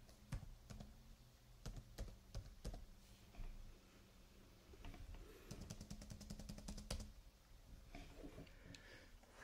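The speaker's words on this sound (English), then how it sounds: "Let's try to type." Typing on a Surface Type Cover keyboard connected to a MacBook, close quiet key clicks in irregular bursts with a quick rapid run of taps partway through, no talking.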